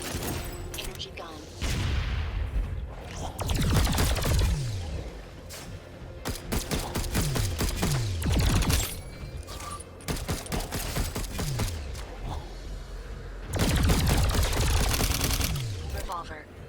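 An energy gun in the video game Alienation fires rapid, loud volleys of sharp cracking shots in several separate bursts, with explosions and battle noise in between.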